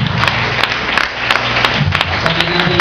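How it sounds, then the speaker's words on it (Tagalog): Church members at a lecture session clap to welcome first-time visitors, a brisk, close round of applause with sharp individual claps standing out over a low hum of the room. "Sa lahat ng mga kapatiran, bigyan natin sila ng palakpak."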